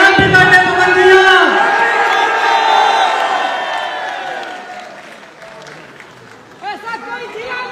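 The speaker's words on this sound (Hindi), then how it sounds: "तालियां बजाइए" A large outdoor crowd at Pawan Singh's birthday celebration claps and cheers loudly and continuously, with whoops rising over the applause and a voice speaking through it before it fades.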